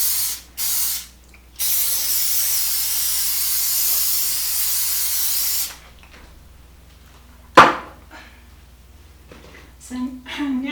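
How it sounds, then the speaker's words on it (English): A long steady hiss of aerosol cooking spray coating a casserole pan for several seconds after a couple of short bursts, followed by a clatter and quiet rustling. "I'm going to spray my pan with cooking spray."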